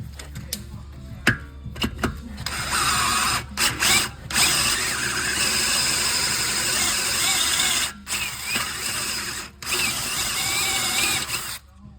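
A power drill countersinks a hole in a brake caliper to prepare it for a Time-Sert thread insert, whirring in repeated bursts with short pauses and brief stops.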